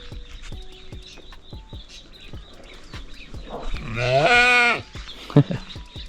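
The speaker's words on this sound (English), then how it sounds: "Goats are funny." A goat on a small farm in Baja California Sur, Mexico, lets out one long, loud wavering bleat close by, with soft thumps and a brief second call afterward.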